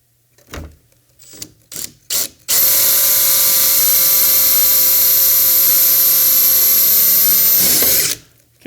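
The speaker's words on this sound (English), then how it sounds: "Let's drill the top hole and bolt that in." After several short clunks and ratchety clicks, a power drill whines loudly and steadily for about five seconds, then winds down and stops.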